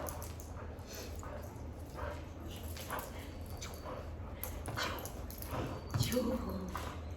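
A dog's low growls and playful yips mix with rustling and a person talking nearby, steady and close throughout.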